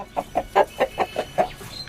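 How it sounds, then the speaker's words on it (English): A hen clucks in a quick, steady run of about seven short, throaty bursts, fairly close and clear. "and hen."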